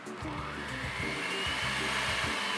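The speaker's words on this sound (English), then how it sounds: "It's actually a rotating mixer machine." A rotating mixer machine in a restaurant kitchen runs with a steady, rough whirring drone and a pulsing low rumble that cycles about once per second, close and constant throughout.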